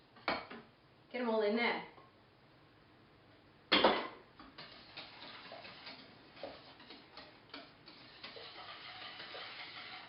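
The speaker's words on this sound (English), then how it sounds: "Egg yolks mixed in. Whisk." Egg yolks whisked by hand in a bowl for Portuguese tart custard, giving quick clinking and ticking strokes with a few louder knocks, heard close with brief talk over it.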